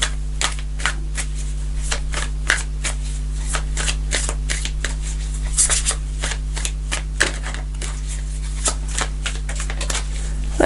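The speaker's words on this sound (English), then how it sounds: "Let's pull a card for this Fool," Tarot cards being shuffled by hand, a continuous run of quick papery flicks and riffles close up, set over a steady low electrical hum.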